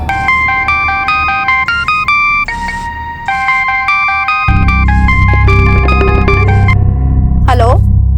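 A melodic electronic phone ringtone plays in repeated bright tonal phrases for an incoming call, then a voice talks over it as the tune continues loudly.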